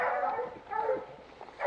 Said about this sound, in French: Il y a de sacrés chiens quand même.